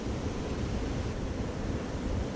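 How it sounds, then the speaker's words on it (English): A waterfall in the Colorado Rockies near Colorado Springs rushes in a steady, dense roar, close and constant, with no voices. "Stay away from the waterfall."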